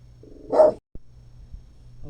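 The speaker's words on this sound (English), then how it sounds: "there goes my dogs. They're gonna bark" A dog gives one loud, close bark, followed by a short, fainter yelp in an otherwise quiet indoor room.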